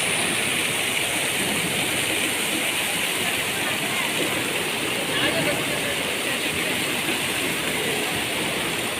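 Steady, dense rush of an indoor waterfall at Bangalore airport fills the whole stretch, a constant broadband roar with no breaks; faint voices may sit underneath.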